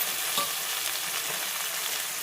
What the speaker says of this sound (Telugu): ఉల్లిగడ్డ అయితే వేగింది